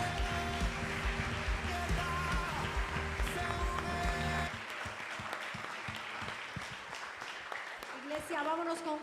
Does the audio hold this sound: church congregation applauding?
yes